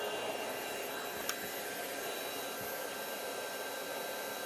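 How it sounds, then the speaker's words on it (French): An Osotek H200 cordless floor washer runs its self-cleaning cycle, spraying clean water on the rotating brush and sucking dirty water back up, giving a steady, even motor whine and airy suction hiss with one brief click. "L'aspirateur est en train d'envoyer de l'eau claire sur la brosse rotative afin de la nettoyer."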